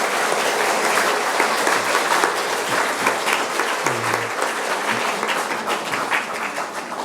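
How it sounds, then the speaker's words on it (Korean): An audience at an academic lecture on Franciscan spirituality gives sustained applause to the lecturer, a nun, with steady, dense clapping at an even level from start to finish. "오늘 수고해 주신 우리 루시아 수녀님께 다시 한번 감사의 박수를 드립니다"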